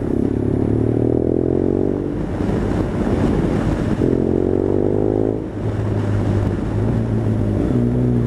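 A BMW R1200 GS motorcycle with an aftermarket exhaust and MIV manifolds runs steadily and loudly up close, its deep boxer-twin engine drone swelling in two rev rises, with wind buffeting over it and no talk.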